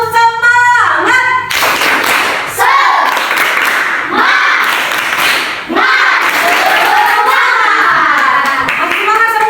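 A classroom of children claps a rhythmic 'tepuk semangat' spirit clap, with loud patterned bursts of hand claps mixed with chanting voices and a brief sung tone at the start.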